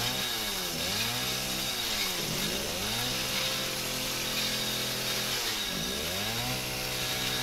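Chainsaw in the zombie horror game Resident Evil 7, its motor droning steadily with repeated rising and falling revs in waves, loud and close, no voices.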